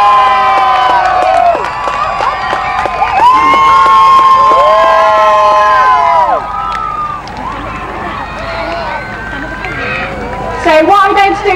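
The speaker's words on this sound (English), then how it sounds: "So can we start cheering for these amazing parachutists?" Crowd of children cheering and shouting loudly for RAF Falcons parachutists landing at an outdoor display, a dense chorus of high excited voices with rising whoops that sustains, dips, then swells again.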